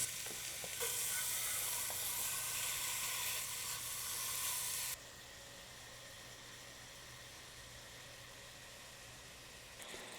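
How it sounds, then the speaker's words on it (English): Steady, loud sizzling of andouille sausage frying in a pan, a bright crackling hiss that drops to a quieter, continuous sizzle partway through. "Let's get it sizzling and let it brown up beautifully."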